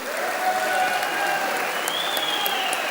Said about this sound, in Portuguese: eu quero novamente uma salva de palmas aos companheiros petroleiros que estão hoje nessa luta